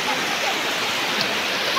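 Floodwater in Hailakandi, Assam rushes steadily with broadband watery noise, loud and continuous with no pauses.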